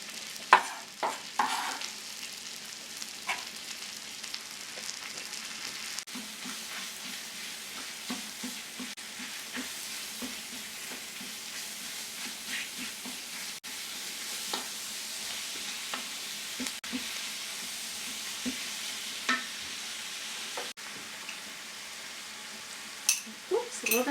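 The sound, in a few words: mushrooms, pork and vegetables sizzling and stirred in pan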